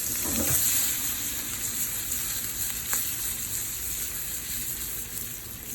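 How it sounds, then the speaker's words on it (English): A little butter sizzling in a hot frying pan, a steady close hiss and crackle with no voices over it. "A little touch of butter."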